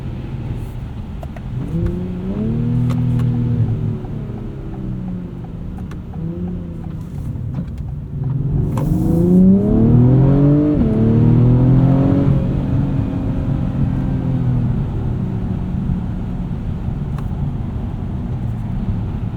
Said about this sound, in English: V6 makes a good noise too.